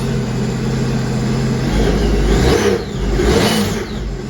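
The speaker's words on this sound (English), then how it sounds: "Starts up, revs up." A Sea-Doo RXP-X jet ski engine, freshly tuned and full of fogging oil, runs steadily and then revs up in two rising sweeps, loud and close with no talking.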